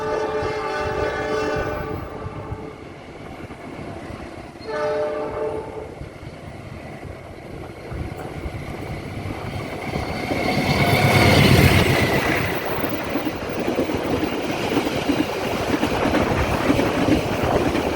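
The Malabar passenger train in Indonesia rumbles steadily along the tracks while its horn sounds twice in long tones, followed by a louder rushing roar as it speeds on.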